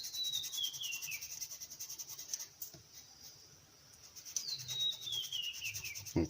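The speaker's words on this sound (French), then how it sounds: "on peut poncer la partie" Sandpaper rubbing a plastic part of a 1/48 scale A6M2 model aircraft kit, close and quiet, in short back-and-forth scraping strokes with brief pauses between passes.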